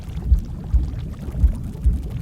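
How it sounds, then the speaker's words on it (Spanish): River water sloshing and lapping in low, rhythmic pulses, a soft thump roughly every half second over a steady murmur, close by with no voices. "Escucho el sonido del agua en suspensión."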